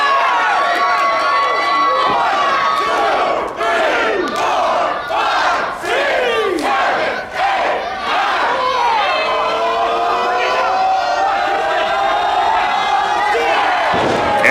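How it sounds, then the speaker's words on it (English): Loud wrestling crowd at a TWF pro wrestling show roaring and cheering without a break, with chanting swells and shouts over a constant dense roar. "And this crowd loving every second of that."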